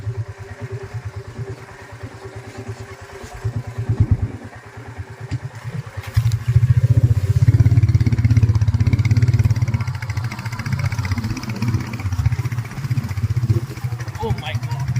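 A motorcycle ridden along an unpaved dirt track in the hills on a trip toward the South Garo Hills, its engine thrumming steadily and then growing louder and rougher midway, with a voice talking over it.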